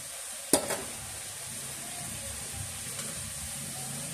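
Squash being sautéed in a pan for a vegetable-laden mung bean dish: a low, steady sizzle, quiet and close, opened by one sharp utensil clatter.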